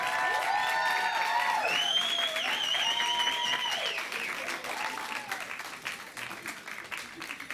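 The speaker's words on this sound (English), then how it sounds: "everybody can give them a great round of applause" Steady audience applause with some cheering fills a Boston celebration event as the 2021 ARTery 25 emerging artists of color step around the stage, dense clapping that gradually thins, with tonal whoops and voices rising above it.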